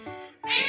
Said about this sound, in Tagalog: andyan na yung mga pusa ko